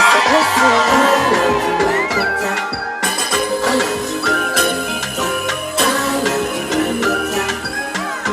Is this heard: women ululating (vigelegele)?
yes